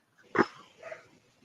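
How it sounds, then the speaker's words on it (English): Dogs bark faintly in the background, one sharper yelp followed by a softer bark, at low level with no speech. "of all times to be dog barking"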